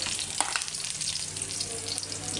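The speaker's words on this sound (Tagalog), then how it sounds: "I-saute lang natin hanggang mag-brown." Meat sautéing in a pan until browned for Ilonggo-style pochero gives a steady, dense sizzle and crackle throughout, with a few faint stirring clinks and no voices.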